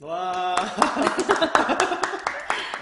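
Handclaps during the first episode of a design talk by a Kookmin University visual design professor: a steady run of sharp, close claps under an ongoing voice, with a brief exclamation near the start.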